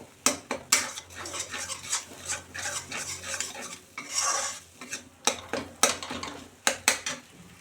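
An egg fries with spices in a pan, heard mostly as repeated scraping strokes and metallic clanks of a spatula against the pan over a light sizzle.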